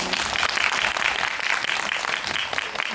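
Brief burst of steady audience clapping during a special guest-visit screening event for the film 독친, a dense, even patter of many hands lasting a few seconds.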